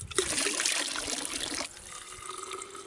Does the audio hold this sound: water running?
yes